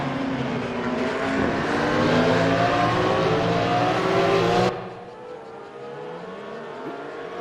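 Porsche Carrera Cup race car engine revving hard at Laguna Seca, a loud sustained howl that cuts off abruptly, leaving a fainter distant engine drone afterward.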